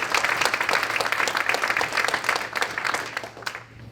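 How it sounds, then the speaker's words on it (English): An audience at a school district's annual agency address gives presenters a round of applause: a steady, moderately loud patter of many hands over a low room hum, fading slightly at the close. "Please join me in a round of applause for all these amazing presenters."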